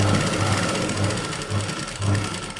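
A sewing machine running steadily while cross-stitching a 36-inch blouse, a close, continuous mechanical hum with a faint regular pulsing of the needle, heard alone.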